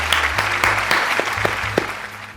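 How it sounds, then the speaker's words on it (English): A small group claps out of sync in loose, uneven bursts, individual hand claps landing at different moments, close and fairly loud, with a low hum underneath. "I like that we didn't clap at the same time at all."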